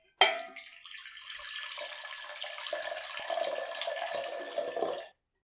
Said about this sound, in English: Add in 1/2 cup of boiling water to it.